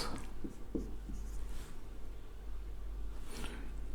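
Chalk or marker writing numbers on a board during an arithmetic lesson: a series of short scratchy strokes in uneven bursts, close and clear over a steady low hum, with no talking.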